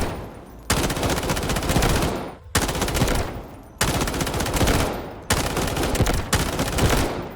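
Rapid automatic fire from an SG552 assault rifle in the video game Delta Force: four loud, close, sustained bursts, each about one to two seconds long, separated by short pauses.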